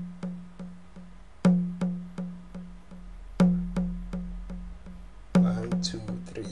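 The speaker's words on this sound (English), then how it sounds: "Then we add ping pong again. Then put it on 4 echoes, so it sounds like this." Short percussive hits in FL Studio with a ping pong delay set to four echoes, each hit followed by a trail of fading repeats bouncing in a steady rhythm, clear and close.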